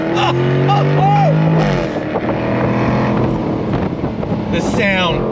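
A 2023 Jaguar F-Type V8 accelerating hard in first gear, its engine note climbing loudly against wind noise. Someone talks over the roar.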